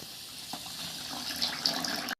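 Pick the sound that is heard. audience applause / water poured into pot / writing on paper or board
water poured into pot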